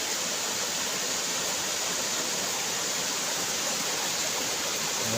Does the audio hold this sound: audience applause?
no